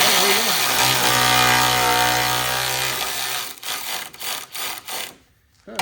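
A Snap-on long neck electric ratchet runs loud and steady, whirring and rubbing for about three seconds as a tight bolt breaks loose, then drops to a few short bursts before falling quiet.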